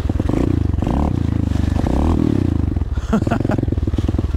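An SSR 125 pit bike engine revs hard and close during a spin around, its loud buzzing note rising and falling with clattering and scraping mixed in.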